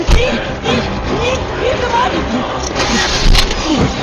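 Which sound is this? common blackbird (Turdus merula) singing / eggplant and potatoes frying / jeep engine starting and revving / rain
jeep engine starting and revving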